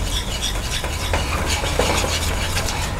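Flour being stirred into hot melted butter in a pan, a steady scraping and rubbing of a utensil over a soft sizzling bed, continuous and close for the whole stretch with no voices.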